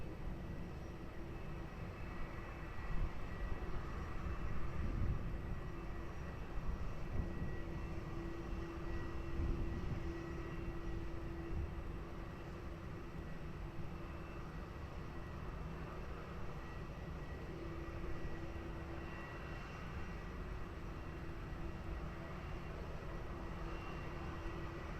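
An aircraft takes off from runway 20 at Lisbon Airport, heard as a distant, steady low engine roar that swells gently and lingers without any voices.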